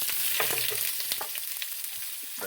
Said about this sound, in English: And in I go in a hot oil.